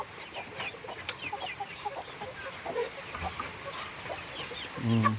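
Chickens cluck in short, scattered calls over a busy low background, with a louder burst of clucking near the end.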